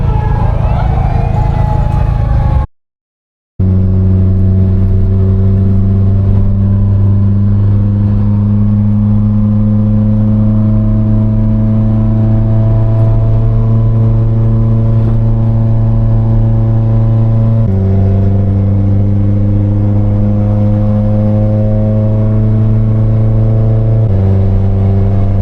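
A Nissan 180SX pulls away, its engine droning loud and close with a steady hum that shifts pitch a couple of times as it drives off, after a short silent gap near the start.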